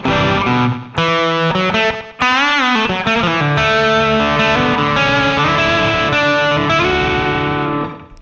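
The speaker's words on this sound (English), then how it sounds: "that'll be our distortion channel" Loud, heavily distorted electric guitar playing sustained chords and bends, with a couple of short breaks between phrases.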